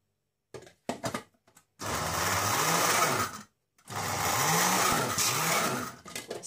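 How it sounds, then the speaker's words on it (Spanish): A Moulinex XXL hand blender whirs loudly through chickpea pâté in two bursts of about one and a half seconds each, separated by short pauses, with a few brief clicks and knocks before the first run. "la batidora XXL Moulinex, muy buena, pero no coge todo si no tiene algo de líquido"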